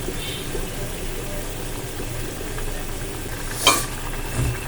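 Mushroom curry bubbling in a pan over a high gas flame, a steady low simmering hiss throughout with a short clink or scrape near the end, fairly faint and close.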